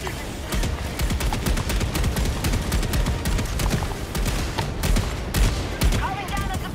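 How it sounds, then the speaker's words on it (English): Heavy sustained gunfire from Helldivers 2, rapid overlapping shots laying down covering fire, loud and close throughout with a few sharper cracks near the end and faint voices underneath. "Covering fire."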